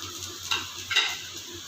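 A ground paste of pepper, cumin, garlic and chili tipped into a pan for coconut milk rasam, giving a soft sizzle with a couple of scraping stirs of a spoon against the pan, close up and steady.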